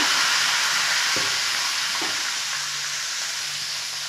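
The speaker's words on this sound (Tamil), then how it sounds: "கடுகு நல்லா பொறிஞ்சிச்சு ஒரே ஒரு காஞ்ச மிளகா கொஞ்சமாக கருவேப்பிலை அந்த பெருங்காய் போடுங்க" Mustard seeds, one dried chili, curry leaves and asafoetida crackle in hot oil for a tempering over a clay-pot tomato sambar, a loud continuous sizzle broken by a couple of light taps, no voices.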